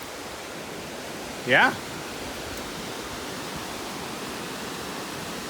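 Rocky River rushing along beside a backcountry wilderness trail, a steady broadband wash of moving water throughout, with a single short spoken word near the start.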